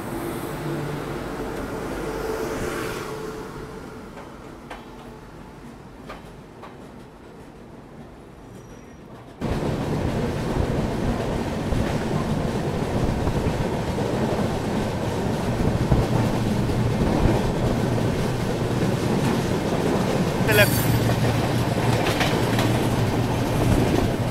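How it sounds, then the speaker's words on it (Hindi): The Howrah–Indore Shipra Express rumbles past close by, a dense, loud roar of wheels and wagons with rhythmic clickety-clack that starts abruptly after a quieter stretch and then holds for its length. "यहाँ मुझे मिल जाती है हावड़ा से इंदौर जाने वाली शिप्रा एक्सप्रेस"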